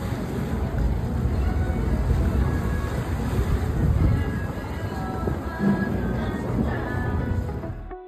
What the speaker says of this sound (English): it looks like our boat's here, so we're going to hop aboard